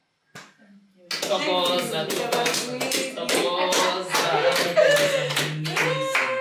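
A group claps together steadily after a short quiet start, dense overlapping handclaps filling the room at an MK Party women's live session, with a voice audible early on.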